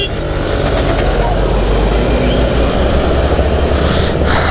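A school bus on a road passes close by with a loud, continuous low engine rumble and road roar that holds steady for several seconds, a brief higher whoosh near the end.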